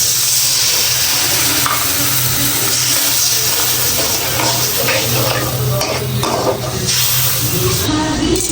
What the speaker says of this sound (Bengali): এখন অল্প একটু পানি দিয়ে ভালো করে কষিয়ে নিব।